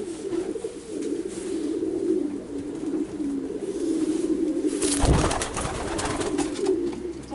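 Low, rolling coos of racing pigeons in Urziceni, Romania, repeat steadily throughout, with a brief burst of rustling or flapping near the end.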